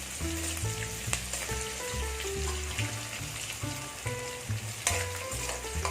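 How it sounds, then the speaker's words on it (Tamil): Onions fry and soften in a pan for mutton sukka, with a continuous sizzle and occasional stirring scrapes, set beneath loud background music. "வெங்காயம் நல்லா வதங்கிடுச்சு."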